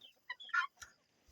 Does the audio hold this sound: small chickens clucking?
yes